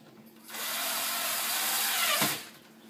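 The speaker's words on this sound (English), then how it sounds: "Then I just take my drill" Power drill driving screws to fit new hardware onto kitchen cabinets, a steady whirring run of about two seconds, close and loud, starting and stopping abruptly with no talking.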